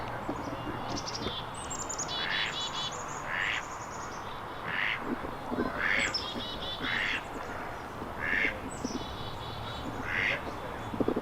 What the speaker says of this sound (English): Oh, there's the ducks.